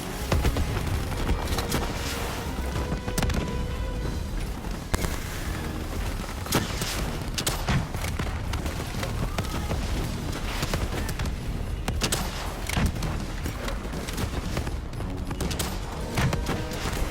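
Dense, relentless automatic gunfire with booming blasts in Call of Duty: Black Ops III, a continuous loud barrage of overlapping shots and explosions throughout with no break.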